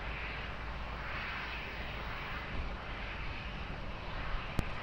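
A plane takes off on runway 20 at Lisbon Airport, a steady broadband engine roar that holds strong and even throughout, heard from a distance with a brief click near the end.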